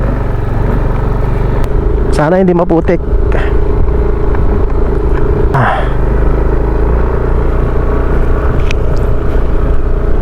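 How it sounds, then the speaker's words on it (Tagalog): A Yamaha Nmax V2 scooter rides over a rough rocky road, its engine rumbling loud and close, with jolts and rattles from the uneven surface while someone talks briefly over it. "Ito na yung rough road na papasukin natin. So kakayanin naman siguro itong motor."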